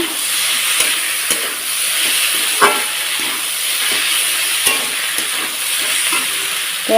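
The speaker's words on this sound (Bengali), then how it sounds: "আর এটা দিয়ে এখন ভালোভাবে নাড়াচাড়া করে নেব" Ginger paste is stirred into vegetables in a hot pan for a Bengali vegetable chorchori: a steady, close sizzle and hiss with occasional scraping knocks of the spoon.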